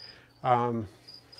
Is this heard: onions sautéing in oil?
no